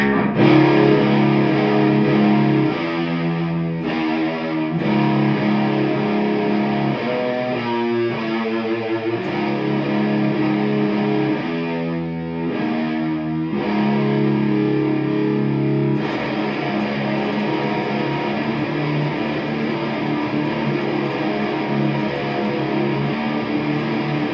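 Heavy distorted electric guitar churns out a fast, grinding metal riff, with brief palm-muted chugging breaks between sustained crunchy chords.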